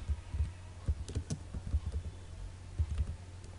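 Close, quiet computer keyboard typing, with a short burst of light keystrokes in an irregular rhythm, a pause, and then a few more clicks, with no talking.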